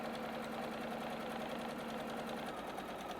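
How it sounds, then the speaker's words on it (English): A sewing machine stitches a seam line on a quilt block with a steady, close mechanical hum and rapid needle chatter, running continuously without talk. "now we need to make one more line of sewing on the other side of our guideline here"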